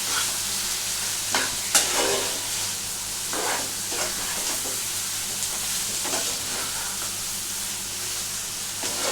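Boneless chicken curry sizzles and fries in a pan over a gas flame, with a steady hiss and scattered scraping and stirring clicks at close range, moderately quiet.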